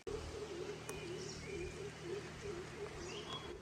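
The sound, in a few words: birds calling in hill forest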